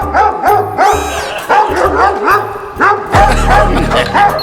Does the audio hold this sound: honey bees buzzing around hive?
no